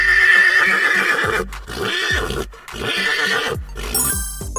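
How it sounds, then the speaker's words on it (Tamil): A horse neighs loudly and nearby in several shrill, quavering whinnies separated by brief pauses, with no talking over them. "குதிரை,"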